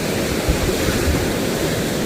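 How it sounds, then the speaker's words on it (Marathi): Sea waves washing onto the shore at Vengurla and eating away the soil bank: a loud, continuous rushing surf with small surges, heard alone without talk. "पाहू शकता तुम्ही समुद्राच्या लाटा येऊन माती कशी व खचून गेलेली आहे"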